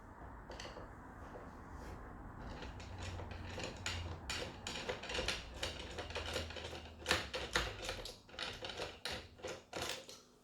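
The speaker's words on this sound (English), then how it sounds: "If we remove this screw, then we can take out the cylinder, we can remove the cylinder." Small metallic clicks and ratcheting turns as a screwdriver backs the securing screw out of a Euro profile electronic lock cylinder, close and fairly quiet, with irregular bursts of scraping and ticking growing busier toward the end.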